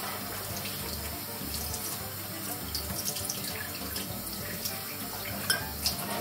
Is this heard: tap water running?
yes